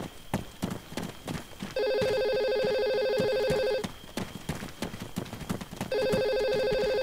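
A cell phone rings in the Arma 3 video game, sounding two loud sustained electronic ring bursts of about two seconds each. Between and under them come clattering footsteps and movement noise.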